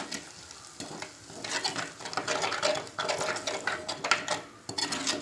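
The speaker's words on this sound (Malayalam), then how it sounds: "നന്നായി ഇളക്കുക." A spoon scrapes and stirs sardine chili curry masala in a pan, with tamarind water just added. The sizzling, scraping strokes are close and continuous, with no talking.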